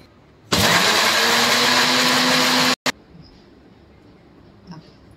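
A mixer grinder blends green chutney for bread batata pakoda, a loud steady whir of about two seconds that cuts off abruptly, followed by a short burst and quiet kitchen background.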